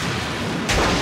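A refinery storage tank explodes in a deep, loud boom that swells suddenly partway through, layered over an already roaring low rumble.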